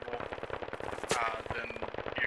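Rapid automatic gunfire from the military shooter Squad, a dense stream of sharp close bursts with a louder crack near the middle, continuous throughout.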